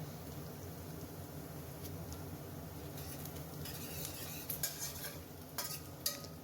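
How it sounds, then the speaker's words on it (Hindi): Onions being stirred in a kadai over the heat, a steady soft scraping and faint sizzle with a few sharper clinks of the spoon against the pan near the end. "अब इसे हमें चलाते रहना है ताकि प्याज लगे ना कढ़ाई में।"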